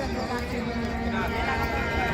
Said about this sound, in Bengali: চূড়ান্ত গতিতে ঘোড়াটা দৌড়তে পারে।